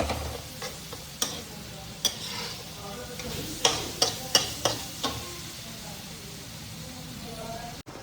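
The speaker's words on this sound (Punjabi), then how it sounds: "ਜਿਹੜਾ ਆਪਣਾ ਪਿਆਜ਼ ਵਗੈਰਾ ਸਾਰਾ ਕੁਝ ਭੁੰਨਿਆ ਜਾ ਰਿਹਾ" Onions fry in a pan with a soft continuous sizzle while a utensil scrapes and taps against the pan in a string of sharp, irregular clicks.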